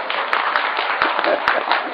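A small audience clapping at a spiritual gathering, steady overlapping handclaps close by, with brief louder claps standing out.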